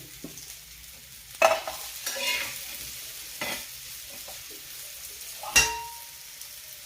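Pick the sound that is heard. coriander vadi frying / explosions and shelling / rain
coriander vadi frying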